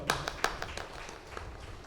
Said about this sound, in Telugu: ఒకసారి పత్రిజీ గట్టి క్లాప్స్ కొడదాం.